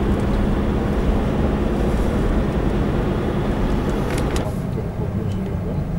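Car driving along a road in Suwałki, Poland, heard from inside: a steady, loud broadband road and engine rumble that holds throughout with no break.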